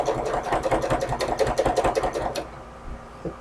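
A sewing machine fitted with a wide open toe presser foot stitches folded fabric straps, a rapid rhythmic chatter for about two and a half seconds before stopping, leaving quiet room sound.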